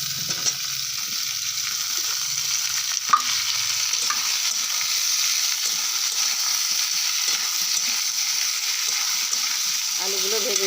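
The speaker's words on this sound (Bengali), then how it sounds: "আলুগুলো ভেজে নিলাম" Potatoes frying and being stirred with onions in a pan, a steady close sizzle running throughout with occasional scrapes and clinks of the utensil, no voices.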